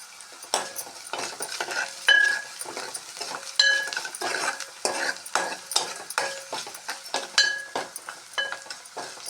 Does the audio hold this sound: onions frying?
yes